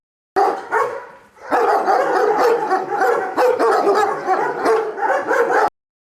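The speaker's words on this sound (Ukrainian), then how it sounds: "чотирилапі поліцейські навіть гавкають веселіше" Several police dogs at a canine training centre bark loudly and continuously nearby, overlapping yelps and barks with a few whimpers mixed in.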